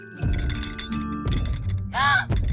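Heavy, slow human footsteps thud one after another in a cartoon, with a brief high warbling squeal partway through.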